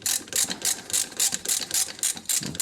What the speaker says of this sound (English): As you're loosening it off, give it a slight backwards pressure to the socket handle.